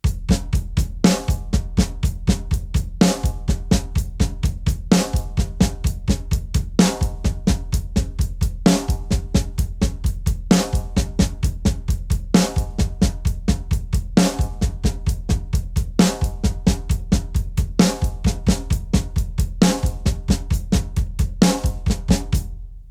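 A drum kit plays a steady groove of sixteenth notes with beats 2 and 4 left out, each bar carried by evenly spaced cymbal strokes over low kick hits, close and loud with no talking.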